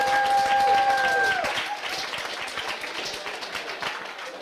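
Crowd applause at a trivia night during an ice festival, cheering a first-place team; a brief electronic tone rings at the start, then steady clapping fills the room at moderate loudness.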